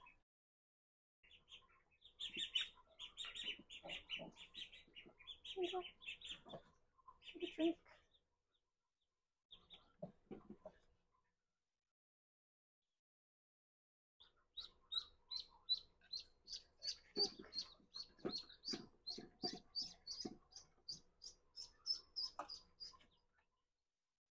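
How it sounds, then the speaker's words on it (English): Many young turkeys and ducklings cheep and peep in rapid bursts, with soft clucking mixed in, two long stretches of busy chirping separated by a brief quiet pause. "These are turkeys and ducks."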